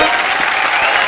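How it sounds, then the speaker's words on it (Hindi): A television comedy show's studio audience gives a loud, brief burst of dense applause for a guest named Richa. "एक बार ऋचा दी के लिए जोरदार तालियां"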